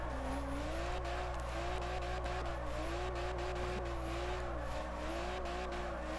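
A car drifts in the Forza Horizon racing game, its engine holding a steady, wavering drone while the tires squeal continuously underneath. The sound is loud and sustained throughout, with no talking.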